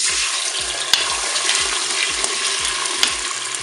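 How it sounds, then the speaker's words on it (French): Eggs frying in hot oil inside a preheated Cookeo multicooker pot, a steady bright sizzle with a few sharp pops, continuous and close, over a low repeating mechanical hum. "Donc je vais mettre mes œufs dans la cuve."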